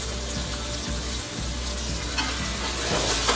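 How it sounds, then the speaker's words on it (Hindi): Chicken frying with red chili and spices for pulao, a loud, constant sizzling hiss close up with faint scrapes of stirring mixed in. "इसको अच्छे से भून लेते हैं"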